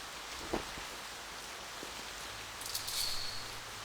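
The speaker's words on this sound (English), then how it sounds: "I woke up to the sound of rain pounding on the window" Rain falling steadily against a window in the video game Town of Nie, a soft continuous patter with a few louder drops, faint and alone.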